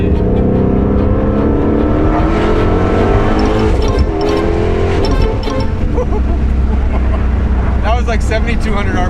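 A sports car engine, either a C7 Corvette Grand Sport or a Ford Mustang Shelby GT350R on a road rally, revs hard to about 7,200 RPM. The loud, sustained roar climbs and drops with gear changes while people talk over it.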